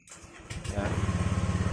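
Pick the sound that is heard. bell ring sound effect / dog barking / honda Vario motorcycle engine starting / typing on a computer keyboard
honda Vario motorcycle engine starting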